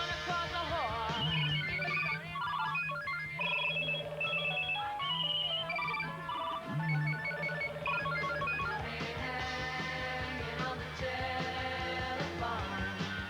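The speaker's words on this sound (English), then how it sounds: "nothing happened when we called the phones" Several mobile phones ring together near spilled petrol, overlapping melodic ringtones and chirping trills layered in a busy, repeating jumble that carries on steadily for many seconds at moderate volume.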